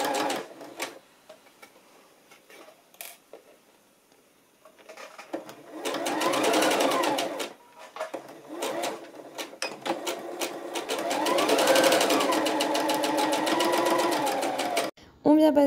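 A sewing machine stitching a trouser seam 1 cm from the edge runs in long steady bursts between pauses, with a busy mechanical whir and occasional clicks. Someone talks over it in places.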